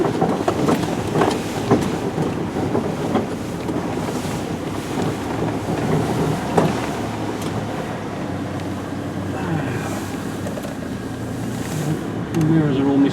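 A Land Rover drives through water on an off-road experience course in Solihull in December, giving a steady rushing, splashing wash with engine rumble and wind buffeting, close to the microphone, with some talk over it.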